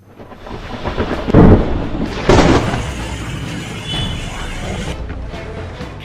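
Heavy overnight rain and a thunderstorm over the Nalagarh industrial area in Himachal, with loud rumbling thunder cracks over a steady downpour.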